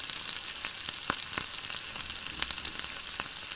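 Tempering spices splutter in two tablespoons of hot oil for a ridge gourd milk curry: a steady soft sizzle punctuated by scattered sharp pops and crackles, with no talking.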